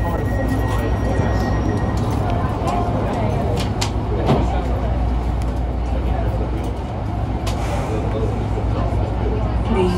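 Heathrow's automated people mover train runs between Terminal 5B and 5A on the northern track, a steady loud rumbling ride noise with a brief dip midway, continuous from inside the car.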